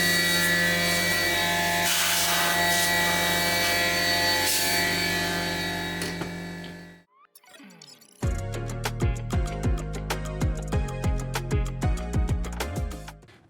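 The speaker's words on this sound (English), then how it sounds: "I removed the chips during the milling from time to time" A DIY CNC mill cuts a steel base plate with a long end mill, a steady harsh grinding whine, then after a brief pause a series of rhythmic, repeated cutting pulses with sharp tonal squeals.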